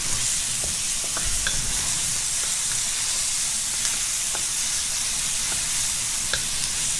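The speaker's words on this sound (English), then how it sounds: "And then you can add about 1 tablespoon of minced garlic." Minced garlic sizzles steadily in a hot wok, close and continuous, with a few light stirring taps and scrapes breaking through the hiss.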